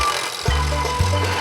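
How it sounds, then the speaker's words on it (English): A drill bores holes in a drum shell, with a steady loud whir that shifts pitch in short stepped bursts as the bit bites, close and continuous, with no voices. "we have to drill some holes"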